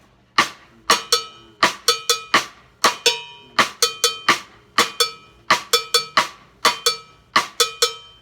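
A steady, looping drum kit pattern, with a bright, clanking cowbell hitting repeatedly in a tight syncopated rhythm, loud and close.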